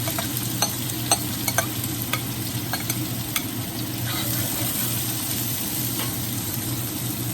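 Onions frying over high heat in oil, a continuous close sizzle with a low steady hum beneath and scattered small ticks and pops, no talking.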